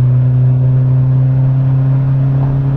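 A 1.6 TDI diesel VW Polo with a hybrid turbo pulls hard under load, its engine droning loud and steady from inside the car with a strong low hum and no talk.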